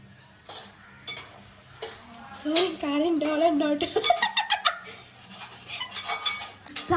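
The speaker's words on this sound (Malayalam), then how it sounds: "നന്നായിട്ട് മിക്സ് ആക്കി ഇടണം ഇല്ലെങ്കിൽ ഉപ്പും പുളിയൊന്നും കയറില്ല ചിക്കനിൽ" Chicken for a catering-style chicken curry is mixed with spices in a pot. Scraping and clattering stirring sounds follow each other in quick succession, mixed with a person talking nearby.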